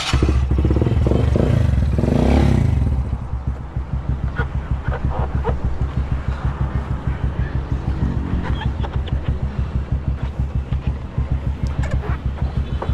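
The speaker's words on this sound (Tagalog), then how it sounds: "Painitan lang natin yung makina niya." A motorcycle engine starts with a loud burst, then settles into a steady, close, rhythmic idle chug as it warms up.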